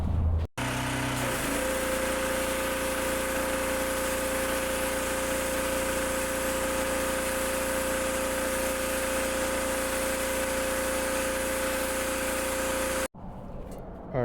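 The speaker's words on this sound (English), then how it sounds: "I'll show you how to use the surface cleaner" A pressure washer's engine drives a surface cleaner over concrete in one loud, continuous drone with a steady whine, starting abruptly and cutting off just before the end.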